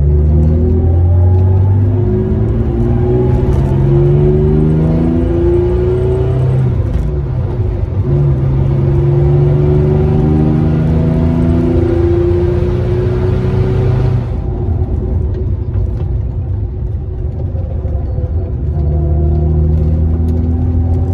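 A 1961 Jaguar E-Type tuned to 1600 hp accelerates hard through the gears, its close, loud engine climbing in pitch with a brief dip at each shift, then settling into a steady rumble.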